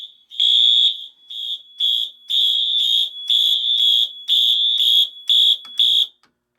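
Simplex Hochiki fire alarm sounding during a system test, a loud piercing electronic tone pulsing in a steady on-off pattern, about ten bursts, close and alone.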